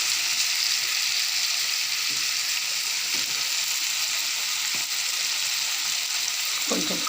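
Moringa drumstick pieces fry in a pan for a milk curry, giving a steady, loud, close sizzle that runs unbroken throughout, with a few faint clinks of stirring.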